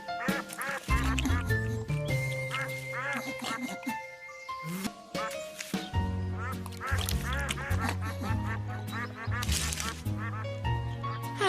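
Ducks quack loudly and close in busy overlapping bursts, with voices talking over the quacking throughout.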